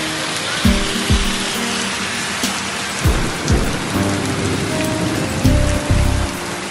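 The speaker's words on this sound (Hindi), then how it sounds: "कई जिलों में बारिश के साथ तेज हवाओं का दौर है।" Heavy rain pours steadily in Gujarat, with low thunder rumbles and strong gusts of wind rising and falling over the constant downpour, with no voices.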